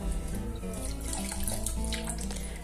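Tap water runs steadily into a sink during cleaning of a Michael Kors Jet Set bag with makeup brush cleaner, a continuous close splashing rush with faint background tones.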